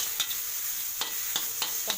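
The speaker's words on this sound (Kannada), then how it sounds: "ಸ್ವಲ್ಪ ಚೆನ್ನಾಗಿ ಫ್ರೈ ಆಗಬೇಕು." Green chillies frying in a pan with turmeric, a steady hiss of hot oil punctuated by four quick spatula scrapes at irregular intervals, close and without any voice.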